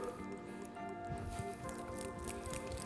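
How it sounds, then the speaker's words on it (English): Yogurt for cucumber raita is whisked in a bowl with a steady, fast wet patter of the whisk, close up, over a faint background tone. "Let's whisk this yogurt."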